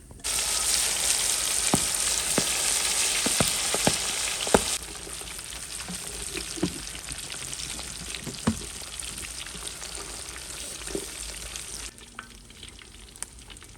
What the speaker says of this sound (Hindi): मछली मेरी हाफ फ्राई हो गई।